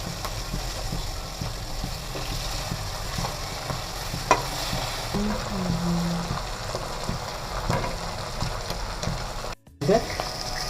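Rohu fish frying in a pan of oil, a steady broad sizzle with occasional stirring clatter and a brief dropout near the end, fairly close and continuous.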